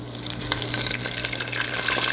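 Food drops into hot cooking oil and fries with a dense, steady crackling sizzle close by, continuous throughout with no voices.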